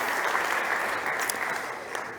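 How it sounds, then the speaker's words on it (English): Steady, dense applause from a crowd at a startup competition stage, loud and sustained throughout with no break. "Big applause for Chris."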